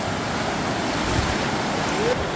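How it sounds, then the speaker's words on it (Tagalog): Strong river current near Talon ni Eva Falls in Bulacan, a dense, constant roar of rushing water with wind buffeting the microphone, loud and unbroken throughout. "Lakas ng agos, oh."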